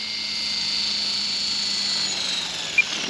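The electric motor of a Trex 600e RC helicopter whines steadily at high speed, a bright sustained drone close up with a slight rise and fall in pitch and a brief click near the end.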